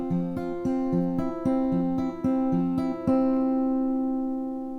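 A guitar plays a song's riff, a repeating pattern of clear plucked notes with a steady picking rhythm. It is close and alone, and the last notes ring out and fade.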